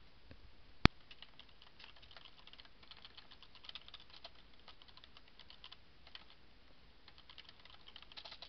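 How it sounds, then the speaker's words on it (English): Fingers type steadily on a computer keyboard, a faint stream of light clicks and taps with one sharp louder click near the start, entering credit text in editing software, no voices. "now you should be able to start typing in your credits"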